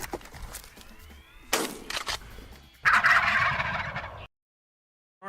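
Turkeys gobble in several loud bursts, with an especially strong, sustained gobble toward the end before a sudden cutoff into silence.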